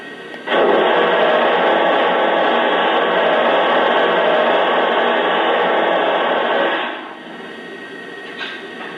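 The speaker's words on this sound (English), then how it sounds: "Here's the steam blowdown sound." Steam blowdown effect from a Lionel N&W Y6b 2-8-8-2 model locomotive: a loud, close, steady broadband hiss of venting steam lasting about six seconds, then cutting off to a quieter background with no voices.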